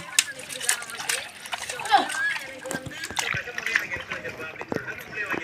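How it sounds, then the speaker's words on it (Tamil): Cut fish are rinsed by hand in a second bowl of water, making repeated small splashes and sloshes nearby while a person talks over them. "இது ரெண்டாவது தண்ணி கழுவுறாரு"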